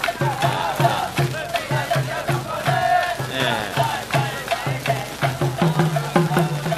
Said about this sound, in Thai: วันนี้พามาชม กองเชียร์น้องๆ